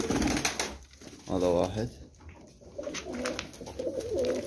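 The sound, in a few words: pigeons cooing in loft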